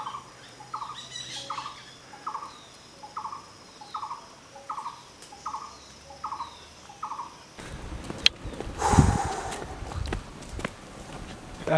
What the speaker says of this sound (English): That is the sound of a giant barbet.